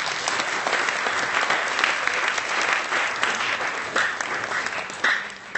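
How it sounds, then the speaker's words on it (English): An audience applauds two award commendations at a stage management awards ceremony, steady dense clapping from a large crowd filling the room, loud and continuous throughout. "So a round of applause for the two commendations."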